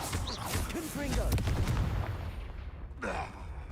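A fiery blast spell cast in Hogwarts Legacy, a burst of crackling explosive booms and rumble that swells through the middle and flares again near the end, loud and close amid game effects.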